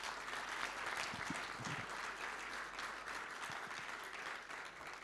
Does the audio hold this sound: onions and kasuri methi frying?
no